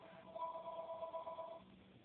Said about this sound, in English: my phone is ringing again if you can hear it